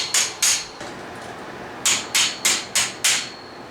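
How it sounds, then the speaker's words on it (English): Sharp metallic hammer blows drive a pin into a steel track panel: two quick strikes, a pause, then five evenly spaced taps, each ringing briefly and close. "we insert it with a hammer"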